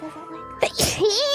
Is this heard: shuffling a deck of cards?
no